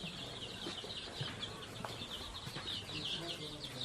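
Young quail chicks about fifteen days old, raised alongside chickens, peep and cheep in a steady high chatter close by, with faint rustling underneath and no voices.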